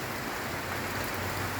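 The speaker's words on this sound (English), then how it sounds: "It's been raining all night" Steady rain falls on a rainy morning, a dense, even hiss with no gaps or voices.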